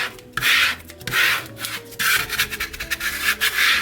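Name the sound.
scraper rubbing vinyl onto transfer tape on wooden sign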